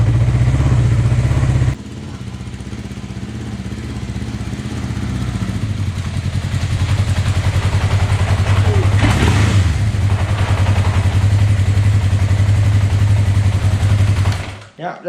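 A 1982 Honda CB650 motorcycle engine runs close by with a loud steady drone, briefly dipping before settling back into a strong throbbing note that carries on until it abruptly cuts off.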